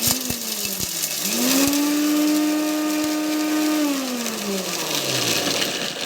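A loud kitchen mixer grinder whirs continuously, crushing coconut, peanuts, lentils and chilies, its motor pitch rising and holding then dropping, with a few clunks as the contents get crushed.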